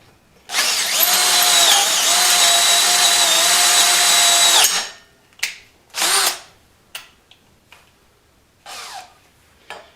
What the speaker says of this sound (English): I keep hearing popping, but what it is, it's the pieces of that busted bolt.